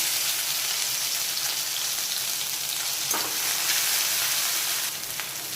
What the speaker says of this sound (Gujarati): એ આપણે એડ કરી દઈશું વઘારમાં અને થોડી વાર તતળવા દઈશું